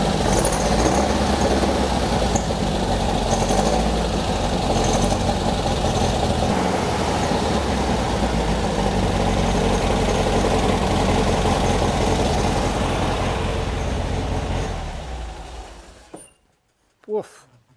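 A Beck 550 Spyder replica engine idles roughly on its own, a steady loud rumble that runs continuously before the engine cuts out near the end, followed by a brief thump.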